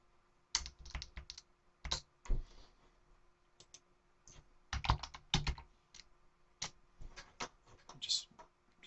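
A command is typed on a computer keyboard in irregular bursts of quick, crisp key clicks separated by short pauses, close and fairly quiet.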